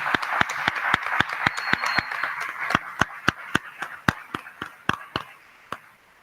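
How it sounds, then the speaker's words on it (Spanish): A handful of listeners at an online conference clap for the speakers, distinct claps close by in a quick, regular rhythm that thins out and slows toward the end. "Un fuerte aplauso para ellos"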